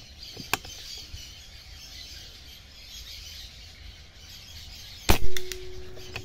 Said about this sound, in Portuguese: Terceiro disparo.